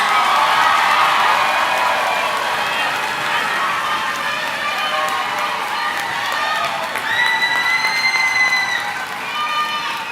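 A high school graduation audience applauds and cheers loudly and steadily, a dense wash of clapping with shouts and whoops rising over it throughout.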